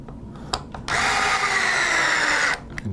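A power driver tightening screws on a rear motor assembly, one loud continuous whirring run of about a second and a half, framed by a few sharp clicks and taps of handling just before and after.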